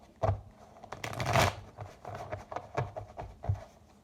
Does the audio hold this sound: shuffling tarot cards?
yes